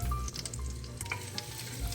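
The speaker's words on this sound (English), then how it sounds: "Add the onions and the garlic." Onions and garlic sizzle in oil and butter in a pan, a soft steady frying hiss with a few light stirring clicks, close and fairly quiet, no voices.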